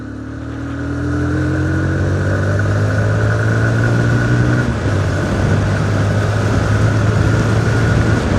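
A TVS Apache RTR 160 motorcycle engine runs loud and close, holding a steady drone that rises slightly in pitch as the bike rides along.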